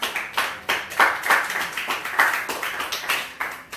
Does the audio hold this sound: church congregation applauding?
yes